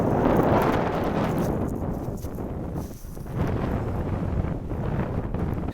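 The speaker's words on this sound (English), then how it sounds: "It's a little bit blustery" Blustery wind buffets the microphone outdoors at the Roaches in Staffordshire, a continuous loud rumbling roar with gusty swells and no speech.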